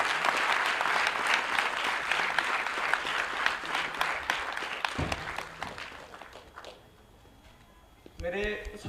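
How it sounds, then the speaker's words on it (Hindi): Audience applause rolls through a crowd at a celebration event, strong at first and gradually thinning out, followed by a voice speaking near the end. "एक बार जोरदार तालियां हो जाए।"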